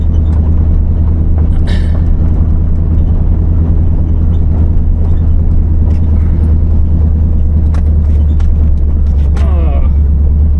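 Interior of a 1986 GMC truck on the move, a loud, steady engine drone and road rumble with a few faint clunks and rattles, engine note changing slightly as it shifts.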